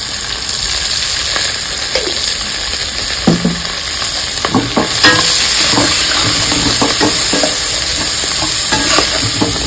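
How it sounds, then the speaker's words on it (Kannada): Onions and green peas frying in oil for a boti gojju mutton dish: loud continuous sizzling hiss with scattered pops and spatula scrapes in the middle stretch, close up, no speech. "ಬಟಾಣಿ ಸ್ವಲ್ಪ ಸಿಡಿಯುತ್ತೆ, ಹುಷಾರಾಗಿರ್ಬೇಕು."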